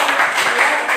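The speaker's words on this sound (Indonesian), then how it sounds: "bagus, tepuk tangan" Students in a classroom break into applause, a dense, steady wash of many hands clapping close by for about a second, with no voices standing out.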